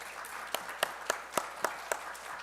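Light applause from a small seated audience at a Korean startup policy forum, a handful of distinct, evenly spaced claps over a faint room hum, no voices.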